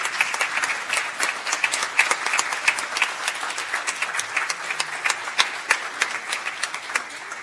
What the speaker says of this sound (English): would you please stand so we can give you a round of applause for our students?